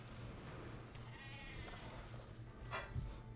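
A big sheep bleats in a Magic: The Gathering digital card game, a drawn-out wavering call over low background noise.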